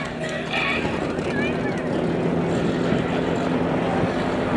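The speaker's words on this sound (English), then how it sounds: "Toby, you just turned the airplane upside down" A T-Clips aerobatic airplane performs at an evening airshow, its engine a steady, distant droning hum with a faint shifting whine, heard continuously under an announcer's talk.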